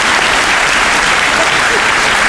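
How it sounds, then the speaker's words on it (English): Audience at a middle school graduation ceremony applauds in a steady, dense wash of clapping that fills the hall throughout. "Another round of applause."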